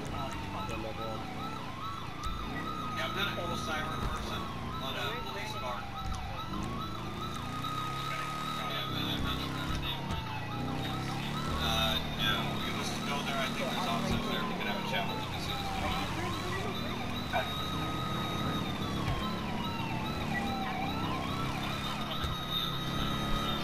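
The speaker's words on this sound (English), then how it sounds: "You guys hear that CHP siren in the background?" A CHP police siren in the video game GTA wails continuously in rising and falling sweeps, heard at a distance under steady engine and road noise.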